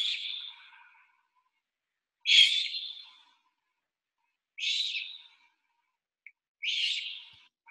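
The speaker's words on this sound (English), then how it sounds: "another call that you could hear, and it's not a screech owl, it very likely is a great horned owl" Great horned owl giving screech-like calls: four harsh, hissing shrieks spaced a couple of seconds apart, clear against near silence.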